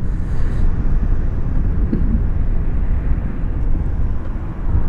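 A Piaggio MP3 300 three-wheel scooter pulls away hard from a red light, its engine a loud, steady low drone close by that holds for several seconds.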